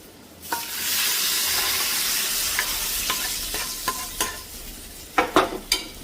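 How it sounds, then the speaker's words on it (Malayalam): Fried onion and chilli tempering hits a pot of chicken and potato curry with a sudden sizzle, then settles into a steady hiss as it is stirred in, with sharp crackles and pops near the end. "നമ്മുടെ കറിയിലോട്ട് ഉള്ളി മുളക് മൂപ്പിച്ചത് ഇട്ട് കൊടുക്കുകയാണ്"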